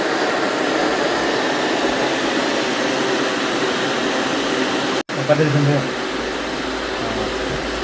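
Air conditioner blowing inside a small enclosed van, a steady broadband whoosh of airflow filling the space, with a brief dropout partway through before the hum resumes; a voice is faintly present.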